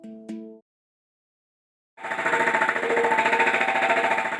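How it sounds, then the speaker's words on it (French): A hammer strikes sheet steel being shaped into a sound sculpture, a rapid dense run of metallic blows after a short ringing tap and a pause, loud and close. "Il y a des milliers de coups de marteau sur un instrument"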